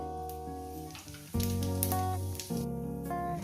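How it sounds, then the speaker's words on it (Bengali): Cumin seeds frying in hot oil make a steady sizzle, while prominent tonal background music plays over them throughout. "জিরেটাকে কয়েক সেকেন্ড ভেজে নিয়েছি"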